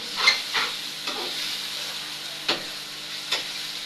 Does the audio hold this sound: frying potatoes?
yes